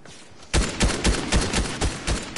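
A rapid volley of loud video game gunshots in a shootout fires in a steady rhythmic string of sharp cracks after a quiet moment, with no voices over it.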